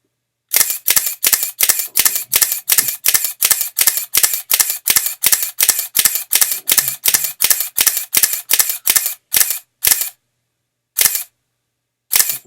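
A Canon EOS Digital Rebel XT fires a shutter burst at 3.5 frames per second, about twenty-five sharp, close mechanical clicks in an even rhythm, then a pause and two final single shots.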